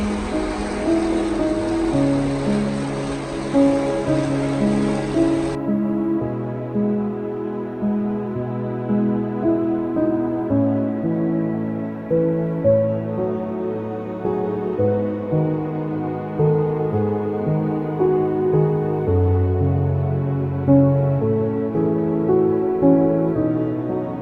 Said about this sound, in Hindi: And here you listen the rain voice